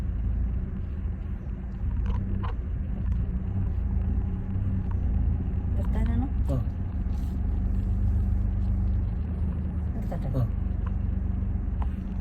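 A car's engine rumbles low and steady while creeping slowly forward on a narrow road, with a person talking over it in the cabin.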